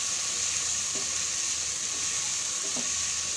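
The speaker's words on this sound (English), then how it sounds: "And mix it well until the tomato cooks well." Tomatoes cook in a pan with a steady, even sizzle and hiss throughout. Two faint stirring scrapes stand out briefly, and no one speaks.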